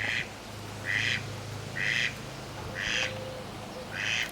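Ducks quack in five evenly spaced bursts about a second apart, moderately close, over a low steady hum of outdoor background noise.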